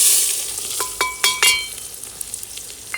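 Sliced onion goes into hot oil already holding a bay leaf and cinnamon, giving a sizzling hiss broken by a few sharp clinks and taps of a utensil, close and without talk.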